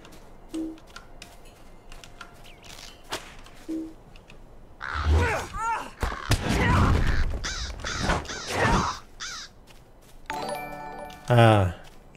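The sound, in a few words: crows cawing in a video game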